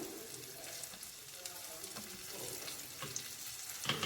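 Cut green chillies frying in a pan for fried rice give a faint, steady sizzle with a few soft clinks and stirring touches, quiet and close.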